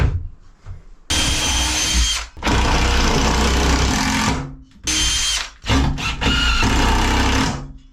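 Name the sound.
power drill driving 3-inch screws into wall studs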